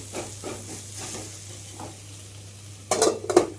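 Meat fries in a pan in a rustic village kitchen, with a soft steady sizzle and faint stirring scrapes, then a couple of louder clattering bursts of utensil against pan near the end.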